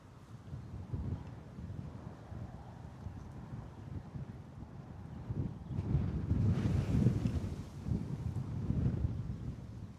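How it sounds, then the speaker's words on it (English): Gusty wind buffets an open microphone at Bristol Airport under hazy skies, a steady low rumble that swells louder from about six seconds before easing slightly; no voices. "Those clouds coming over are definitely pushing through some more wind."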